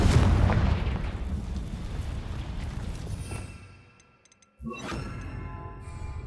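Confringo fire spell blast in the Hogwarts Legacy video game: a loud, close burst of booming rumble that fades out to near silence, then a second sharp blast with a ringing tail.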